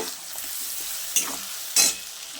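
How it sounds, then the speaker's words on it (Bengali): Onions frying in a pan for a Bengali matar chicken curry, giving a steady sizzle with two sharper bursts of stirring or scraping near the middle and end. "এবার আমি পেঁয়াজটাকেও খুব ভালো করে ভেজে নেব।"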